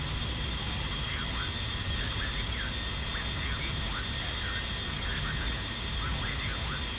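A-10C Warthog jet in the DCS flight simulator on landing approach, with a steady, loud broadband engine roar throughout and faint chattering sounds underneath.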